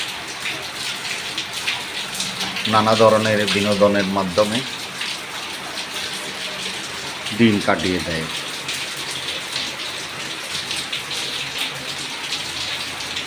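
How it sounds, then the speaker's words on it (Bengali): Heavy rain pours in a steady, dense hiss throughout, with someone speaking in two short bursts over it. "অজস্র এই বৃষ্টি কি আবার বন্যা নিয়ে আসবে?"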